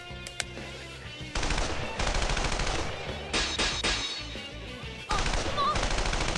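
Heavy automatic gunfire rattles in loud, dense bursts from a Persona 4 Arena fighting game scene, with rapid machine-gun volleys that stop and restart several times across the stretch.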